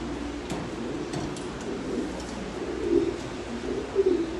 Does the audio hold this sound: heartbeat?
no